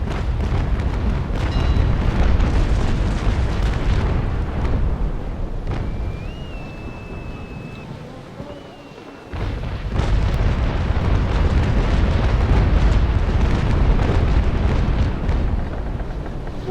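Heavy naval cannon fire from an age-of-sail warship battle game, broad booming blasts rolling into a continuous rumble, with a brief lull before another loud roar of firing.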